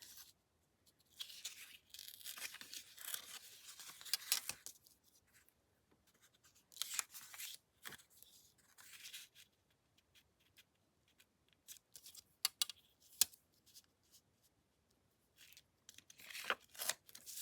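A paper tag is torn from a Christmas card in several short, crisp ripping bursts, separated by quiet pauses, close and fairly soft.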